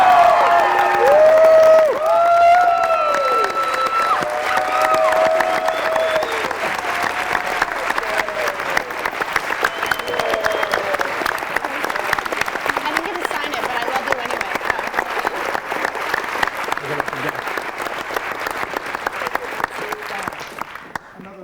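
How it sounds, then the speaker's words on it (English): Sustained audience applause fills a high school drama production of "South Pacific", loud and steady throughout, with some cheering and voices mixed in near the start before settling into continuous clapping. "So everyone give a round of applause for Betsy Andres."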